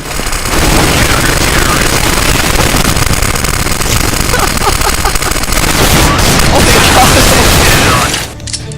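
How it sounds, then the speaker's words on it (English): Rapid game gunfire and repeated grenade blasts from Counter-Strike: Global Offensive pile up in a loud, dense barrage that runs almost nonstop before cutting off near the end. "Is anyone hearing the multiple grenades now?"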